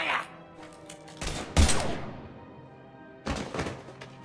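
Gunfire in Mass Effect 3 during a standoff: a few heavy bursts of shots with thudding impacts, loud and close, separated by quieter stretches and followed by another volley near the end.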